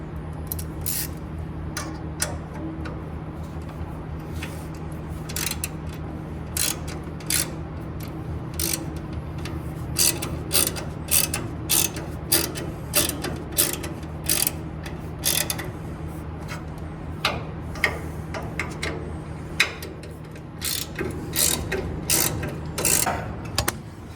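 Wrench or ratchet snugging fittings during an LT engine swap, giving repeated metallic clicks and ratcheting ticks in short bursts over a steady low hum, close and moderately loud with no talking.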